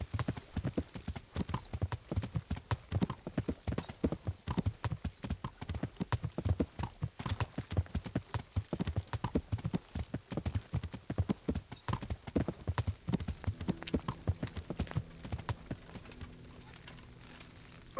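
Horse hooves clip-clop in a steady, brisk rhythm for the full stretch in a medieval role-playing video game, close and continuous, thinning out near the end.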